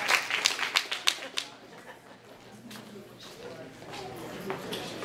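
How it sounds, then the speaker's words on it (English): An audience at the Black Action Defense Committee's 30th anniversary event claps for a performer, a burst of dense applause that fades after a couple of seconds into quieter crowd murmur. "Please give a round of applause to Ms."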